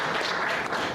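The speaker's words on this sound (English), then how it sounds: "Round of applause." Steady crowd applause, dense clapping filling the whole short moment.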